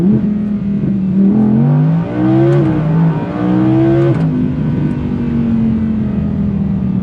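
Audi R8 V10 Performance, a 620 bhp car, revving its engine loudly and continuously up close, the pitch climbing and falling through repeated blips before settling into a steady high drone.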